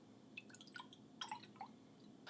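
Milk poured into a bowl of oats, faint, close trickling and dripping with small irregular splashes over a quiet room background.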